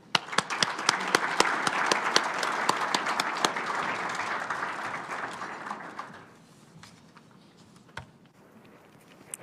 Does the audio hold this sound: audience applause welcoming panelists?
yes